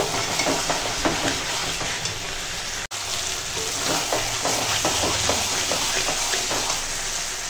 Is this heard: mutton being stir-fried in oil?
yes